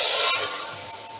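A loud hiss and sizzle bursts out at once as hot ghee tempering is poured into lentils, then slowly fades as the fat settles, steady and close with no voices.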